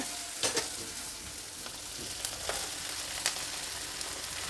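Tomato and onion fry in a pan with ridge gourd, a loud continuous hiss of sizzling oil filling the sound, with a few sharp stirring clicks cutting through.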